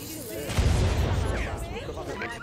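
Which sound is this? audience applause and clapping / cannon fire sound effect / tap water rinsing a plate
cannon fire sound effect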